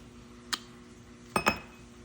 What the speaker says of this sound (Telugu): ఇప్పుడు నేను ఒక గ్లాస్ తీసుకున్నా, 2 క్యూబ్స్ వేస్తున్నాను.